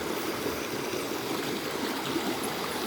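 A cold, clear river stream flows continuously beside a night campsite, a close, steady rushing and gurgling of water with no voices.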